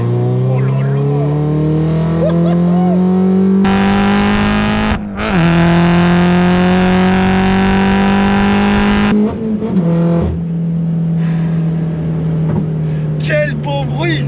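A Peugeot RCZ R with a stage 3 tune revs through its exhaust, a loud, close, sustained engine tone that rises and holds with brief dips, while people talk over it.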